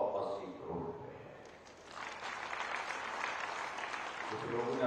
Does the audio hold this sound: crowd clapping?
yes